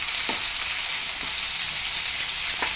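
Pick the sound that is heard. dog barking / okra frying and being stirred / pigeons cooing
okra frying and being stirred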